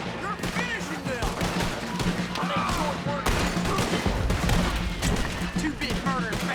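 Battle gunfire from the video game Red Dead Redemption 2, with dense overlapping rifle and pistol shots and booming blasts, loud and continuous under shouted voices.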